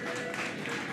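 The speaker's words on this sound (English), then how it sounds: "What are we cheering about?" Spectators at a curling bonspiel cheer and applaud in a short, dense burst of crowd noise, steady and fairly loud throughout.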